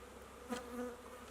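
A brief, soft buzz of honeybees humming in a hive, faint and close, rising for a moment then settling.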